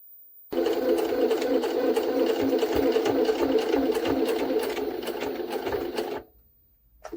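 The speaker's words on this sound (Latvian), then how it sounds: "Vienīgā mašīna pasaulē, kas var uzšūt 30 lienu kārtas." A Jaguar SJ-23 sewing machine runs steadily through a thick stack of about 30 layers, its loud, rapid stitching rattle continuing for several seconds before stopping abruptly.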